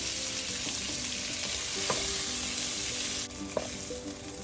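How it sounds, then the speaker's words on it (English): Shrimp sizzle and fry in a skillet for a creamy shrimp Alfredo, a steady close hiss running throughout with a couple of faint utensil clicks and stirring scrapes, no voices. "Once the shrimp is fully cooked, then you can take it off the heat."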